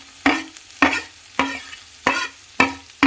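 Peanuts, green chillies, onions and carrot are frying in a pan for carrot semiya upma, stirred in five regular scraping strokes, each setting off a burst of sizzle that fades between passes; no voices.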